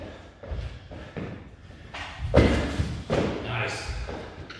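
Heavy landing thuds from jump exercises in an athletic performance workout, several irregular thumps with one loud impact midway, while a coach talks over them.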